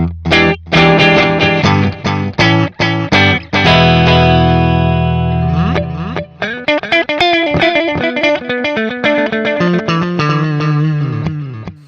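Guitar chords played through a BOSS PS-3 digital pitch shifter/delay pedal, loud and aggressive, with choppy strummed hits giving way to a sustained pitch-shifted swell, then dense repeating delay echoes.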